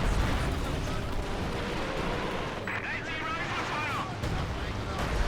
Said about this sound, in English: Nick's also firing the artillery at them